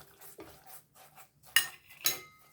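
A spoon stirs sugar syrup for burfi in a pan, making faint soft scrapes followed by two sharper metallic clinks against the pan, close and quiet.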